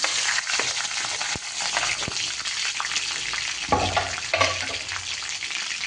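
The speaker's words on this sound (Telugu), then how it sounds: "So oil heat ఎక్కిపోయింది. ఫస్ట్ కొంచెం పచ్చిమిర్చి," Green chillies crackle and sizzle in hot oil, a steady close frying hiss broken by sharp pops and a few louder bursts near the end, with no voices.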